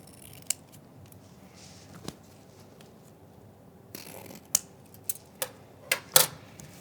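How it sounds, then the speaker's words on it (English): Scissors snip excess ribbon off a Valentine's bubble balloon bouquet, with sharp isolated cuts spaced out at first and then a quicker cluster of close, crisp snips near the end. "I'm just going to snip off any excess ribbon just past where it curves"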